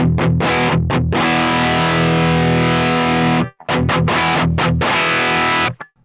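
Heavily distorted electric guitar through a Mesa Boogie Mark IIC+ amp, loud and close: choppy stabs, then a long sustained chord, a brief break, and more chords ringing out alone.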